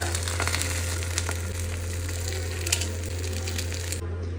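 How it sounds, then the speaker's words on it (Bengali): An egg frying in a pan for a simple homemade dinner gives a steady, close sizzle and crackle, with a low constant hum running underneath throughout. "আর তার সাথে একটা ডিমের পোজ বানিয়ে দিচ্ছি"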